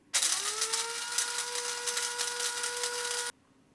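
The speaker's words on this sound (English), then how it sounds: "The spices are now roasted, so put them in a grinder. Grind the spices into powder." An electric grinder whirs at high speed, grinding roasted spices into powder; a loud, close, continuous buzzing whine spins up quickly, holds steady for about three seconds with a rattling edge, then stops abruptly.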